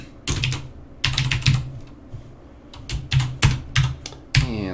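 Typing on a computer keyboard, heard as close, crisp clusters of key clicks in short irregular bursts with brief pauses between them and no voice over them.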